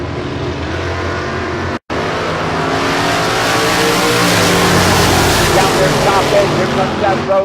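A Roadster in bracket drag racing on a West Coast strip, with a loud close engine roar that builds and holds, then swells further as the car pulls away hard, a brief cutout near the start.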